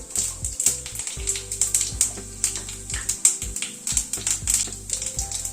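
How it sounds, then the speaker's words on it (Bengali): Dry red chilli and five-spice seeds crackle in hot oil for a yogurt drumstick curry, giving rapid, irregular pops and ticks, close and steady throughout with no voices. "তেলটা গরম হয়ে এসেছে, একটা শুকনো লঙ্কা ফোড়নে দিচ্ছি।"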